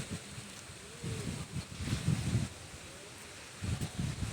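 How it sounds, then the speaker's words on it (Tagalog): Gusty wind buffets the microphone outdoors under an open sky, a soft low rumble rising and falling in a few faint surges, with no talking. "Kaya lang mahangin."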